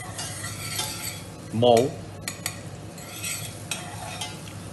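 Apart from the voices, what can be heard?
onion being sautéed and stirred in a pan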